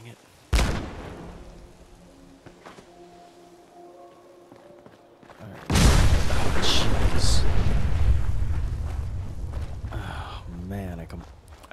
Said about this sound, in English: I thought that small explosion was the final one.